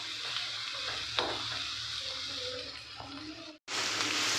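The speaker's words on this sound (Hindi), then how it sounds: "प्याज में हमें भिंडियों को 2 मिनट तक फ्राई करना है। फ्लेम हमारी हाई ही रहेगी।" Okra fries with onions in a pan on high flame, a dense, close sizzle with stirring scrapes throughout, cutting out briefly near the end before resuming.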